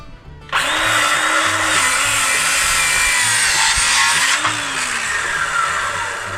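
A power saw cuts wood boards for a cabinet along a marked line, starting abruptly and running as a loud, steady whine with a buzzing edge for several seconds.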